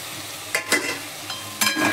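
Masala with tomato sautéing in a pan, a constant sizzle broken by a few sharp spatula scrapes and stirs, close up and without speech.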